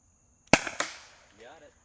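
Byrna Compact Launcher shot striking a target: one sharp, close pop followed by a smaller knock, then a brief faint voice.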